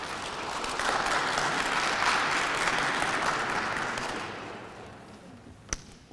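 A conference audience claps in sustained, dense applause that swells and then fades, ending with a single sharp knock.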